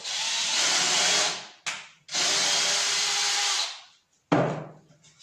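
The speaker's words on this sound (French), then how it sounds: "notre petite vis, on va l'enfoncer dans la plaque de bois." A small screw is power-driven into a wooden plate for a wooden jack-o'-lantern: two long whirring drill bursts with a brief one between, then a short final burst after a pause, close and loud with no talk.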